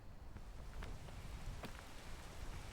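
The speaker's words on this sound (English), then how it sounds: "Because there's the rain. I forgot the audio cue." Steady rain in the climbing video game Peak, a dense even hiss of falling drops with a few sharper splashes, heard alone at a fairly low level.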